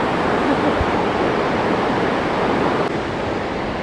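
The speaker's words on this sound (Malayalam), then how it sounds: "ഈ വാട്ടർഫാളിന് എടാ ആകെ ഞാൻ പ്രത്യേകതയായിട്ട് നോക്കിയിട്ടുള്ളത് ഈ വെള്ളം തെറിച്ച് വരുന്നതാണ്" A waterfall in Karnataka roars in a dense, unbroken rush of splashing water, loud and close, with no other sounds standing out.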